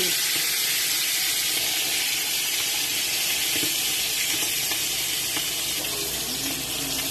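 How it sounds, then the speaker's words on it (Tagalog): Strong stove flame roaring under a pan for frying chicken, a loud continuous hissing rush with faint sizzle, steady and close throughout. "Wow! Galit na galit ang apoy."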